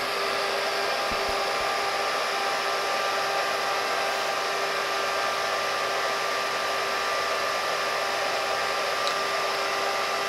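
Front of a Gridseed G-Blade scrypt ASIC miner running while mining, its intake fan giving a steady, loud, unbroken broadband whoosh with a constant tonal hum, close up and with no talking.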